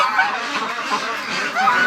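Several geese honk close by inside a wintering shelter on a frigid morning, a brief, loud burst of overlapping nasal calls.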